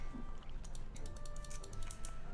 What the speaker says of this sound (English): Yes, I'm aware you can hear my mouse clicks